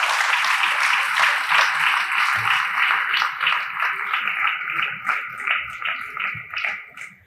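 Audience applause during a health talk in a hall, brisk scattered clapping from a crowd that fades gradually toward the end.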